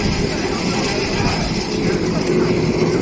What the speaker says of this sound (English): It will help you to easier run the pellet machine